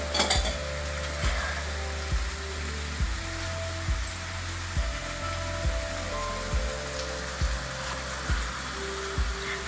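Fish fries in oil in a pan over medium heat, with a steady soft sizzle and a regular series of low thumps or taps about once a second throughout.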